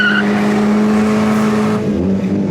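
Cars revving hard on a busy night-time strip in Gatlinburg, a loud steady engine roar with a strong droning tone and a brief tire squeal near the start, shifting pitch toward the end.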